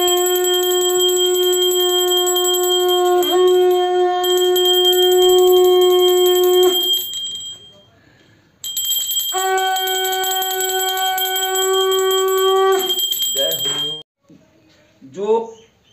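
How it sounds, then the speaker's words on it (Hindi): Conch shell blown during a village naming ceremony for a newborn calf: two long, steady, loud horn-like blasts, each several seconds, separated by a short pause, followed by faint rustling. "और देखिए अब थोड़ा शंख बजाया जाएगा"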